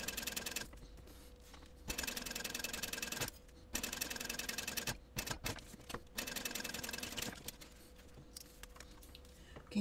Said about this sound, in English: now I want to top stitch these 3 edges